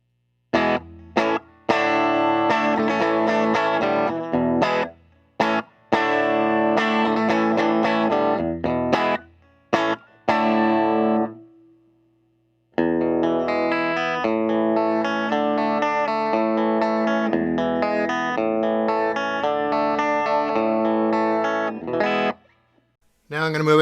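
Electric guitar played through a Fender Blues Junior amp with a Jensen P12Q speaker and a Tube Screamer, miked with a Shure SM57 near the cone edge. The tone is distorted, with strummed chords and riffs in two long bursts separated by a short pause.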